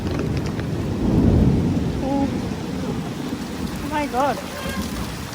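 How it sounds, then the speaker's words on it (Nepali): Heavy rain pours down steadily, with a deep roll of thunder swelling early on. Excited voices talk over the downpour. "कस्तो पानी पर्यो। आकाश पनि लास्टै उ भइरहेको छ।"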